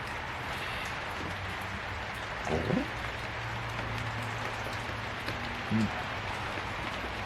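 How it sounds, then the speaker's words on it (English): Rain falls steadily on an evening as a constant hiss, with a few faint thumps and low hums mixed into the soft background. "So it's a rainy evening."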